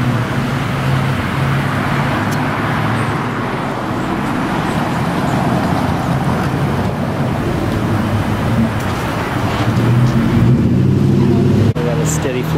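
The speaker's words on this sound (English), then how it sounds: "We got a steady flow of cars arriving here in the drive-thru lane." Cars roll slowly into a fast-food drive-thru lane, a continuous low rumble of engines and road noise close by, swelling near the end, with a brief clunk and faint talk in the background.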